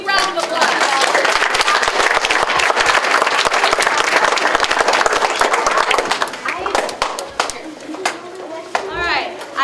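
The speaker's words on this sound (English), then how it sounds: "Let's give them another big round of applause." A dense, loud round of applause from an audience at a St. Matthew DARE graduation for fifth graders, with sustained clapping that thins into scattered claps near the end while voices murmur and a voice rises.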